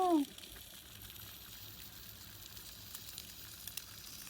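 Egg frying on a small improvised stove made from a tuna can, a steady soft sizzle and crackle of flame running throughout after a brief louder sound at the start.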